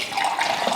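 Water running from the tap of a home RO water purifier, a steady, fairly fast stream splashing close by, continuous and alone.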